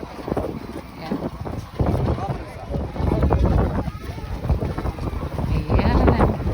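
Strong gusty wind buffets the microphone on a seaside corniche in Dammam, a continuous roaring rumble with passing traffic beneath, while someone talks over it.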